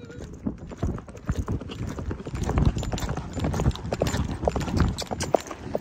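Hooves of a horse being ridden in a canter outdoors, a steady rolling clip-clop rhythm of close, fairly loud hoofbeats running throughout with some wind and tack noise.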